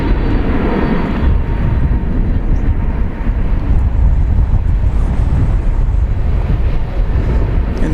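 A Boeing 767 jet airliner from Louisville at DFW Airport produces a loud, steady, low roar that fills the whole stretch, with rumbling wind buffeting on the microphone.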